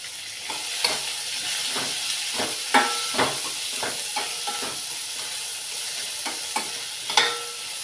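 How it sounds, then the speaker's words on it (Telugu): Chopped onions frying in a pan, a constant hissing sizzle broken by repeated spatula stirs and scrapes at an uneven rhythm, close and clear, with no talk. "ఒక మూడు ఉల్లిపాయలు గుండగాన వాటిని వేసేస్తాను ఇవి బ్రౌన్ కలర్ వచ్చినంత వరకు వేయించుకోవాలి"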